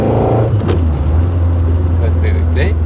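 A Peugeot 205 Rallye engine drones at a steady, loud pitch, as if heard from inside the cabin, with a brief rise in revs early on and faint speech-like sounds in the background.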